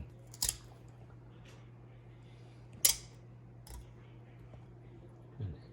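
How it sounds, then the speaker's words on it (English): A fin is cut off a whole fish with a few sharp, crisp snips spaced seconds apart, close and fairly faint over a low steady hum. "We're gonna cut the fin out."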